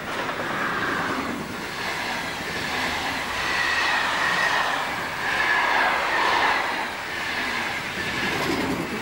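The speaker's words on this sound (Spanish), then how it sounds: "Y aquí tenemos a la AE66 de la que hemos hablado antes." AE66 electric locomotive hauling a train on the San Gottardo line, a steady loud rolling rumble with rising and falling swells and faint wheel squeal, heard alone without voices.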